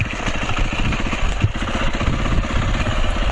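A Suzuki DRZ400 single-cylinder engine putters close by in a rapid, steady throb, with wind and mechanical clatter mixed in.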